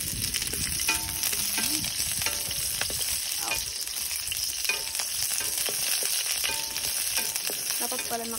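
Onions sizzle and fry in a hot pan with a dense, continuous crackle, stirred now and then with scraping clinks, loud and close throughout.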